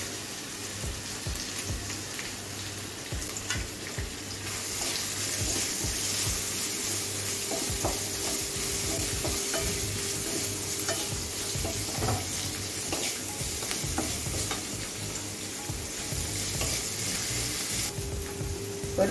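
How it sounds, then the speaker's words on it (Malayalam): Curry leaves fry in hot oil for rasam, giving a loud, steady crackling sizzle with scattered pops and occasional utensil clinks throughout, no voices. "കറിവേപ്പിലയും കൂടെ എണ്ണയ്ക്കകത്ത് ഇടുന്നത് മൂക്കട്ടെ"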